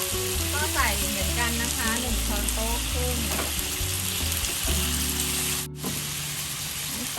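Sake, a Japanese seasoning liquor, hits a hot frying pan in a home kitchen and sizzles loudly and steadily, with faint music in the background; the spattering drops away briefly near the end.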